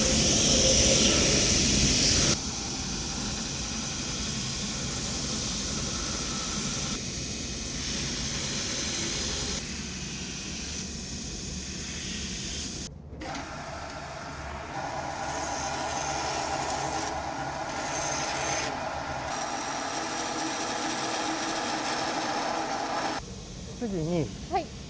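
A Japanese knife blade is ground and shaped against an abrasive wheel, a loud, continuous harsh hiss that shifts in intensity as the blade is repositioned, with one brief pause partway through.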